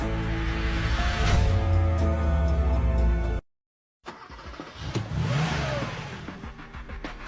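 An old, badly shaking car engine in a racing drama runs loud and steady, revving with low rumbling tones, cuts out briefly, then roars back with rising pitch.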